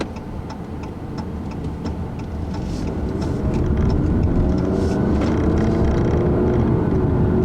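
A 2015 Chrysler 200 sedan with a four-cylinder engine and nine-speed automatic accelerating under a heavy throttle, a steady broadband engine drone building gradually in loudness over several seconds, with faint ticking on top.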